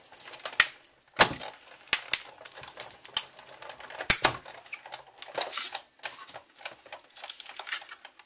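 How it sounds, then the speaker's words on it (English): A Big Shot die-cutting machine runs a card through with a series of sharp clicks and knocks, scattered irregularly across several seconds, fairly close and moderately loud, with no talking. "And then send it through the big shot."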